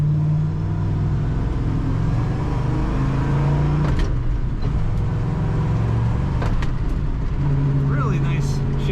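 A 1964 Chevrolet Chevelle Malibu SS with a 5-speed manual drives and corners, its engine a steady low rumble with shifting pitch and a few clicks and knocks from the cabin, audible throughout.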